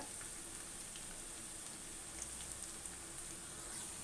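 Cauliflower 65 frying in hot oil: a steady, soft, rain-like sizzle with faint scattered pops, even and continuous, no talk.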